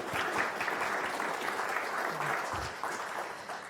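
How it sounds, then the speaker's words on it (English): A conference audience applauds event organisers at an opening session: continuous clapping from many hands, moderately loud and steady, tapering slightly toward the end. "big round of applause for them"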